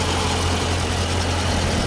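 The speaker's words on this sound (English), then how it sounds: "V8, large displacement engine, 392 cubic inches." A 2015 Dodge Challenger Scat Pack's 6.4-liter 392 HEMI V8 idles with a steady deep rumble, close and constant, with no voices.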